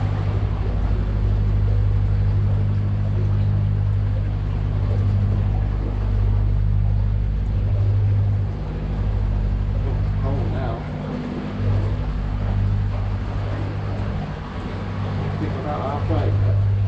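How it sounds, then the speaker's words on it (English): A narrowboat's diesel engine chugs inside a canal tunnel, a low, steady, droning thrum echoing off the walls, continuous and moderately loud, with a person speaking over it. "The noise that you can hear is actually the diesel engine on Tony and Karen's boat."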